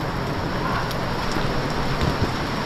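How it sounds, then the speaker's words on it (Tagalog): Heavy rain pours steadily and loud, a dense hiss of drops striking nearby surfaces around a cable car, with a few sharper patters standing out. "Lakas ng ulan."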